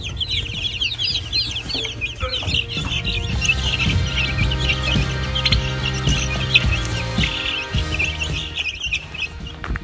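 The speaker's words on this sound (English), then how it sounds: "it looks like the meat chickens and turkeys did really well while we were gone" Meat chickens and turkeys cluck and chirp continuously from close by on a homestead, a busy overlapping chorus of small calls over a low steady background hum.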